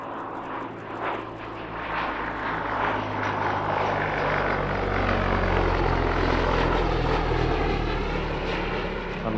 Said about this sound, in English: we stay with World War II fighters with the Gloucester Gladiator